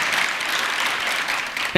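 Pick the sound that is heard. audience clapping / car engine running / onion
audience clapping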